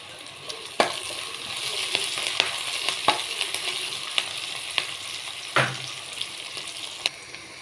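Curry leaves crackle and sizzle in hot oil in a pan for egg curry, a close continuous fry punctuated by sharp pops and spatters at irregular intervals.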